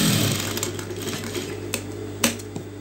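A sewing machine stitches a front patti up close, giving a steady mechanical hum broken by a few sharp clicks and taps.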